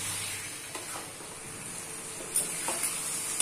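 Chopped tomatoes sizzle gently over a medium-low flame with okra and onions for bhindi do pyaza, a steady soft frying hiss broken by a few stirring scrapes against the pan.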